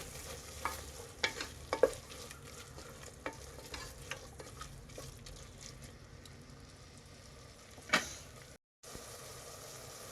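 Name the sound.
stirring mint and coriander mixture in pan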